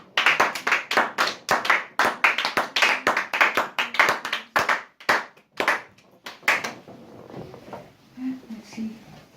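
Rhythmic hand clapping from a worship congregation, loud and close, steady beats for about six seconds before fading out, with voices talking faintly underneath.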